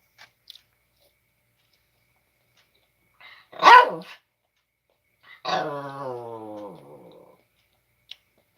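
A dog gives a short sharp bark, then after a pause a longer growling, whining vocalization that trails off, with near-silence around it and a couple of faint clicks.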